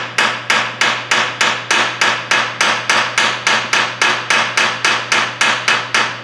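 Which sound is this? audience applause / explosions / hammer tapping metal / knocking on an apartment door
hammer tapping metal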